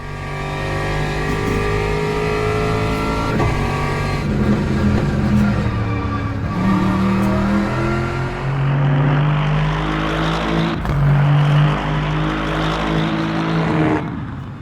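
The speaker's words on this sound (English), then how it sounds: "just listen to that amazing V8 roar" A GT3 race car's V8 roars through gear changes in the Le Mans Ultimate sim, loud and continuous, with engine pitch rising in repeated sweeps and dropping at each shift.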